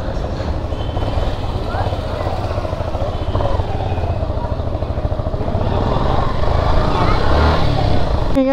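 A freshly repaired motorcycle rides along with a steady, close engine drone and road rumble that grows slightly louder toward the end, with someone speaking over it.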